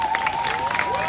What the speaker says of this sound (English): So everybody give him a round of applause, please.